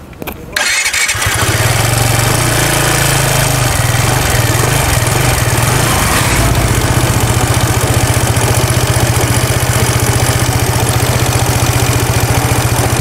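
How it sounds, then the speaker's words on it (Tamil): Aprilia Storm 125 BS6 scooter starting up and then idling, with a steady low exhaust burble that stays close and even, with no talking. "கைஸ் இப்போ எக்ஸாஸ்ட் சவுண்டு பார்க்க போகிறோம்"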